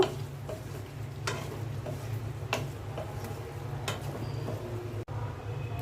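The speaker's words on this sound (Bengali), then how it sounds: "এখন আমি বেগুনগুলো দিয়ে দিচ্ছি বেগুন আর আলু কিছুক্ষণ কষিয়ে নেব" Eggplant and potato pieces frying in a pan for a hilsa fish curry make a quiet sizzle under several sharp scraping or tapping stirs, with a low hum beneath.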